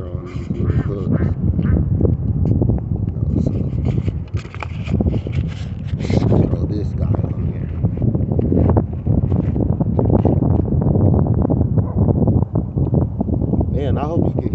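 Heavy outdoor wind buffets the microphone with a loud, continuous low roar on a cold day of fishing, while a person talks throughout underneath the gusts.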